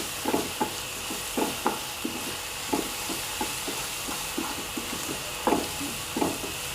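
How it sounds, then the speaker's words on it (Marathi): A chili and turmeric spice mixture is stirred in a pan while a curry cooks, giving a steady soft sizzle under irregular scraping stir strokes that come close and fairly loud, with no talking. "हे बघा मिश्रण सगळं मी एकत्र करून घेत आहे"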